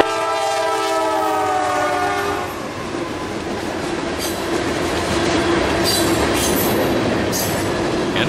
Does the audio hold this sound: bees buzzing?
no